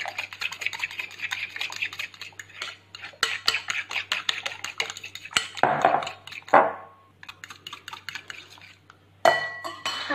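Chicken strips are mixed in a bowl, with a run of quick close clinks, scrapes and wet stirring knocks against the dish, pausing briefly before resuming.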